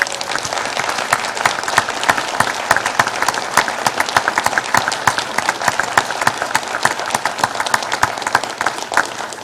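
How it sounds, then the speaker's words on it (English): Sustained round of applause from a large church convention audience, many hands clapping densely and steadily at an even level for the whole stretch, no voices over it. "Would you please show your approval of these courtesy resolutions with a round of applause?"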